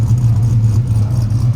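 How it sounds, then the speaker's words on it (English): A cammed truck V8 making 450 horsepower, with its header gasket freshly replaced, runs steadily up close with a deep, loping low rumble, a short stretch alone with no talk. "We're getting the full power in the back, baby. Getting all 8 cylinders, firing on all 8."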